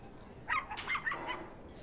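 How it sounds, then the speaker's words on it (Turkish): A dog barks indoors in a short, faint burst of three or four yips and barks, quite soft against a low room background. "köpeğinizin sesinden ne konuştuğumuzu anlamıyoruz"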